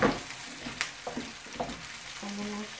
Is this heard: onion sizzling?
yes